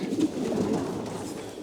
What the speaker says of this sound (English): Here's a yearling cock, one of the Callahan birds